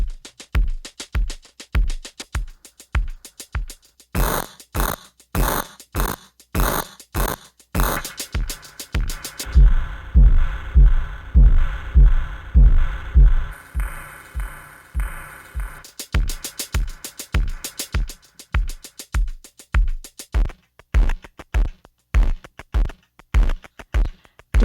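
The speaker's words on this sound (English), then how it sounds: "Get the overdrive of the kick." A kick drum run through an overdrive plugin with spring reverb, thumping in a steady repeated pattern, sometimes alone and sometimes under a denser distorted wash, loud and close throughout.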